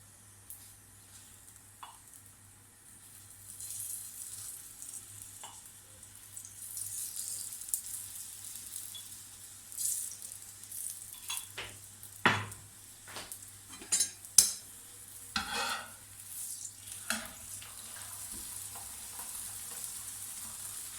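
A keema paratha fries in oil on a pan, a quiet low sizzle at first that grows busier, with scattered scrapes, taps and clatter of utensils against the pan.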